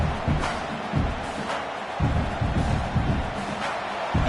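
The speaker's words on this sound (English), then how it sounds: "listen to this crowd noise. This stadium is vibrating" Loud, continuous roar of a packed stadium crowd at a college football game between Tulsa and USF, a dense sustained wash of voices with rhythmic surges and low rumbling pulses throughout.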